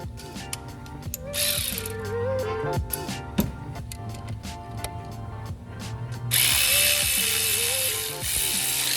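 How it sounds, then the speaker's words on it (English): Hand ratchet clicking steadily while tightening a bolt on a Nissan Maxima belt tensioner, close and fairly loud, with bursts of rapid pawl clicks and brief pauses, no talking. "Go ahead and use ratchet to tighten one."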